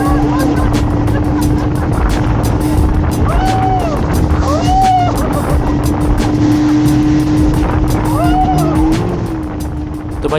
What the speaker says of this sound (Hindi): फ़िलहाल अभी आप स्पीड बोट एंजॉय करो।